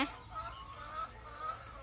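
Chickens on a farmstay farm cluck softly and intermittently while being herded into a pen, faint and a little distant against low background rumble.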